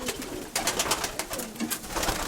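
Domestic pigeons in a loft coo in soft, repeated, throaty bursts close by, a rolling rhythm of several calls in a row with faint rustling around them.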